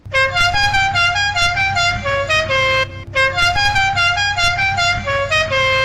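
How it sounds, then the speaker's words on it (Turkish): A loud, melodic car horn in a Roblox video game blares in a rapid stepping tune, repeating the pattern after a short pause, with a low engine rumble underneath. "Bir korna çal."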